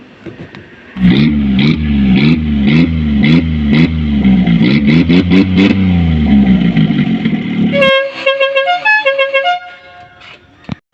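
A modified Maruti Omni van's loud engine revs in repeated rising and falling bursts, then gives way to a blaring musical horn playing a tune, all close and without talk.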